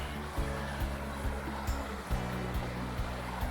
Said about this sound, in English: See how close we are to the creek here. It's nice sound all night long.